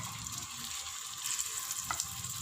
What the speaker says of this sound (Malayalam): ഇനി നമുക്ക് ഇതിലേക്ക് നമ്മുടെ ഫ്രൈ ചെയ്ത് വെച്ചിരിക്കുന്ന ചിക്കൻ നമുക്കിതിലേക്കൊന്ന് ഇട്ട് കൊടുക്കാം.